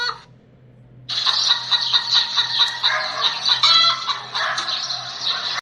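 A cartoon chicken clucks in a quick rhythmic run of bright, close calls after a brief quiet start, with no talking.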